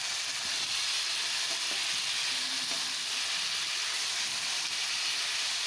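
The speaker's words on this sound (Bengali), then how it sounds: "ডুমো ডুমো করে কেটে রাখা আলুগুলোকে বেশ সুন্দর করে এখন ভেজে নিচ্ছি" Diced potatoes frying in hot oil, a dense, even hiss and sizzle that holds at a constant level from start to finish, with no talking.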